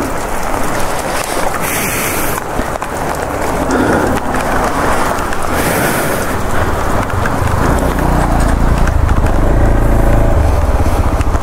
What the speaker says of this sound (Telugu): గాయస్ చూడండి ఫుల్ వర్షం పడుతుంది.